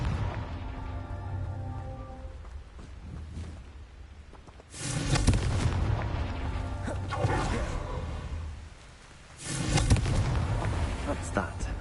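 Two heavy blasts from the Confringo fire spell in the Hogwarts Legacy video game, each a loud booming burst with rumbling decay, set over a steady bed of game ambience and music.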